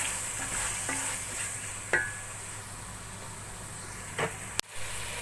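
Frozen peas tipped into a hot pan for a peas and meat curry (matar gosht), a continuous sizzle broken by a few sharp stirring scrapes and one loud clack of a utensil near the end.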